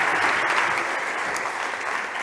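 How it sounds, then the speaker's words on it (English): An audience at a startup competition stage claps for a presenter, a dense wash of applause from a crowd, moderately loud and even throughout with no talking. "Big applause for Miguel, please."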